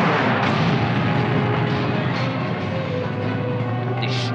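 Continuous gunfire and booming blasts from the 007 Agent Under Fire video game, a dense, loud wall of shooting and rumble that barely lets up, with no voices heard.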